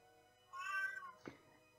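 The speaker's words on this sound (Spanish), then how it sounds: "Mi gata tiene ganas de opinar" A female cat meows once in a short, drawn-out call, close and clear indoors, followed by a brief soft sound.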